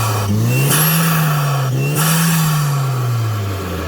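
A 2-litre Hyundai Genesis turbo engine fitted in a Gazel truck revs up strongly twice, pitch rising and falling in loud, close sweeps over a steady idle hum.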